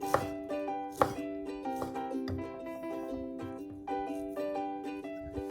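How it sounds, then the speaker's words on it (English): A knife chops enoki mushrooms into small pieces on a cutting board, a series of crisp irregular taps close by, set against soft steady background music. "Cut the enoki mushroom into small pieces."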